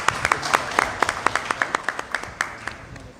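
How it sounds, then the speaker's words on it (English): Audience applause at a scholarship award ceremony: a moderate crowd claps in quick, fairly even rhythm, with individual sharp claps standing out over a steady patter for a few seconds. "So I think we need a round of applause for NPP."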